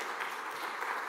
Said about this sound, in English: Thank you, everyone, for that gracious applause.